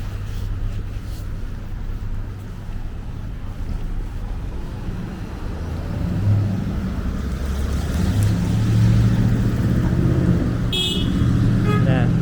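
Steady low rumble of slow cars idling and creeping in a single-lane line of traffic on Harbord Street, Toronto, growing louder midway with a brief bright squeak near the end, no talk.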